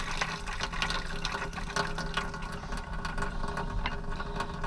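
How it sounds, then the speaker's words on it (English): A faucet in a Roadtrek camper van runs steadily while the water system is flushed after winter, a constant close hiss and splash of flowing water with a low pump-like hum underneath and no talk. "You want to do this until it turns clear."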